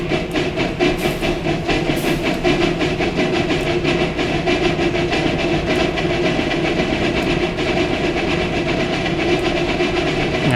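An oil-fired steam locomotive pulls away with a loud, continuous rumble and dense rhythmic chuffing and clatter that holds steady throughout, with no voices.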